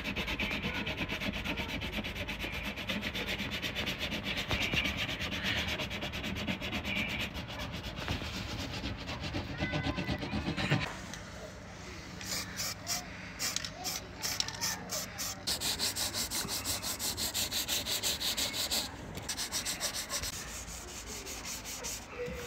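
Filled body panel on a Subaru Impreza being sanded, a steady rasping scrape that runs continuously, harsher in the first half and then thinner and choppier with rhythmic strokes, close and alone without talk.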